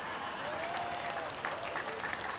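Faint, distant crowd applause during a sermon-like gathering makes a steady hiss of clapping, with a few louder individual claps and a brief voice-like tone mixed in.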